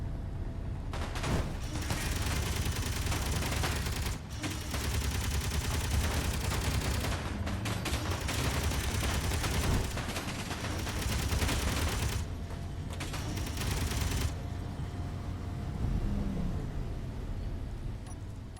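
Sustained automatic gunfire from an interior turret in the Space Engineers video game rattles on loudly and densely with mechanical clatter, breaking off only in a few short gaps.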